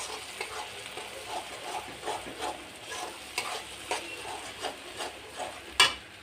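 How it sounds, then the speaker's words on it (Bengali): Mango pieces stirred into mustard paste curry in a pan, with a soft sizzle of frying under repeated scraping spoon strokes, fairly quiet and close. "এখন দিয়ে দিলাম আমটা নেড়ে চেড়ে"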